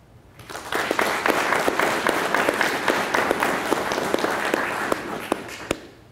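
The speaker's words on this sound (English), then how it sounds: "Can you please stand up so we can give you a round of applause" Warm audience applause at the Bernalillo County Sheriff's Office Regional Training Academy cadet graduation ceremony, with many individual claps audible in a steady round that tapers off near the end.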